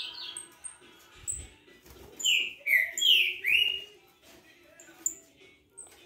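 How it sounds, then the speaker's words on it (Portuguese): A large canário-da-terra (saffron finch) chirps several sharp, bright notes in a short burst mid-clip, with quieter scattered calls and a voice speaking between them. "Olha que canário grande, galera."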